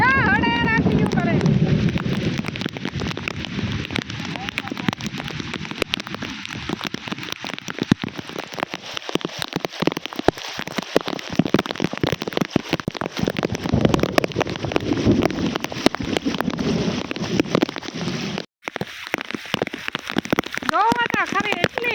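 Heavy rain pours over farm fields, a dense continuous roar with wind buffeting the microphone and a person talking over it throughout.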